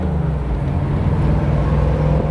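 A 1956 Ford Fairlane Sunliner's engine runs steadily with a low, even rumble and no sputtering, close by and continuous throughout.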